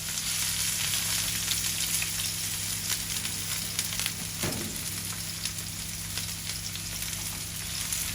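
Onion, garlic and green chili fry in hot oil for a prawn and radish curry, a steady close sizzle broken once by a brief stirring scrape.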